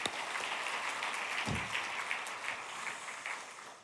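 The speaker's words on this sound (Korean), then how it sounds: "우리 격려 박수 보내겠습니다" A church congregation applauding steadily throughout, a dense patter of clapping that is fairly soft and slightly distant.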